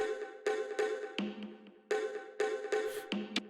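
Three tech house percussion sounds from a drum rack play a bouncy, syncopated pattern, with short tonal knocks and a brighter clap-like hit recurring at moderate level, alone with no talk.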